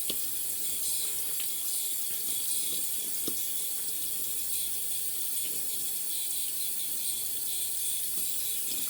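Tap water runs steadily from a faucet to soak a shaving brush, a constant close hiss with faint clicks and knocks throughout and no talking.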